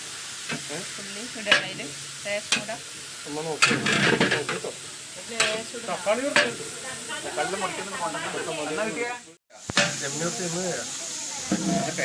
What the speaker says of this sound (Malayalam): ചിക്കൻ കറിക്കുള്ള പാക്കം ചൂടായി അതിൽ ഉള്ളി ഇട്ടിട്ടുണ്ട്